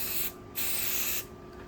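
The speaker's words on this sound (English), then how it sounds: "I'm just going to spray here" Two bursts of spray adhesive hiss close up, the first short and the second longer, as the can tacks down embroidery stabilizer before a shirt is hooped for an appliqué design.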